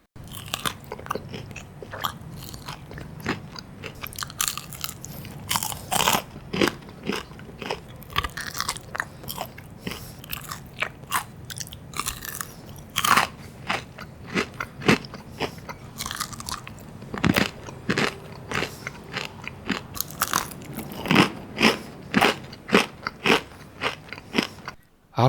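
Repeated crunchy bites and chewing of crispy fried chicken left out for an hour, crust cracking loudly and close up in an irregular run of bites with no talking.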